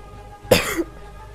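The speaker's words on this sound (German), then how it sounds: "Vielleicht schon in der Aufnahme gehustet." A single sharp cough, close and loud against quiet room tone, with a short throaty tail.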